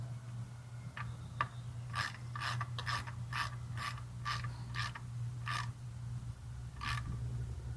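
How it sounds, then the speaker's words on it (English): A big socket wrench ratchets on a motorcycle windshield mount, a CB300R, giving a series of crisp clicking strokes, about a dozen at an uneven pace, close by, over a steady low hum, with no talking. "And this is a big socket wrench."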